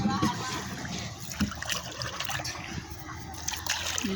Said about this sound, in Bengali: আমার বাচ্চা একটা নৌকা বাইতেছে